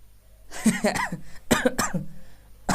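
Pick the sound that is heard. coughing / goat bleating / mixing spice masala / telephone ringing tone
coughing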